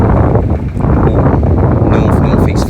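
Strong wind roars continuously across the microphone at a northeast-facing beach house construction site in Barbados, loud and gusty throughout with no clear talk.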